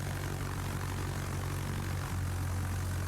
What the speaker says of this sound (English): you are starting with rocket planes